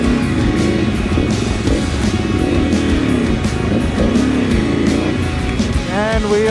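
A car driving along a road into South Kalimantan, Indonesia, with a steady, loud engine and road rumble running throughout and people talking over it.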